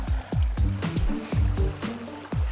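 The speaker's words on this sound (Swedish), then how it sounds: "Vi har bildat här ett fint vattenfall liksom." Water trickles down a small waterfall formed while a pond is drained, a rhythmic run of splashing drips and gurgles repeating every few tenths of a second, close and moderately loud with no voices.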